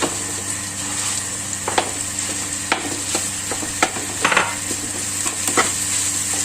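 Ground pork frying in a pan with chopped garlic, a steady close sizzle with scattered scrapes and taps of a utensil as it is stirred.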